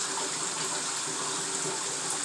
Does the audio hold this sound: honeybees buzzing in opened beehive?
no